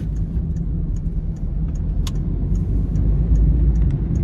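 Busy road traffic at a roundabout, a steady close rumble of car engines and tyres that swells slightly toward the end, with faint higher clicks over the dense low noise.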